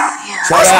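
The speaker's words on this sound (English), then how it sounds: "That's just my dog." A pet dog at home gives a short, sharp bark right after a person shouts nearby, the bark loud and close.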